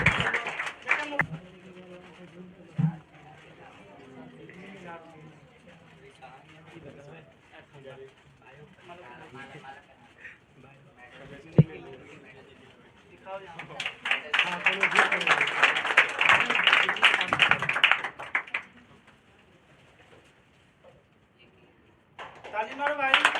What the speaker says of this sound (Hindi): आरती, जोरदार ताली हो जाए, ताली रुकनी नहीं चाहिए।